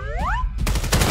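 Quick rifle shots in the VR shooter Vail VR, a short rising tonal whine followed by a couple of sharp, loud close bursts of gunfire.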